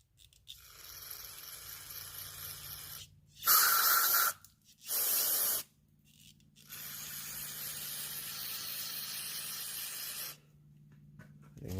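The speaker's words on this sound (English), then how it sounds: "We're going to spray it around the outside of the circle" Short bursts of hissing brake cleaner sprayed from an aerosol can onto the EGR system of a 1990–93 Honda Accord, two sharp blasts followed by a longer softer spray, with quiet pauses between, close by.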